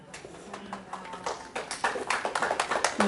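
Scattered light claps start up and build into brief, uneven applause from a small lecture audience, with faint murmuring underneath.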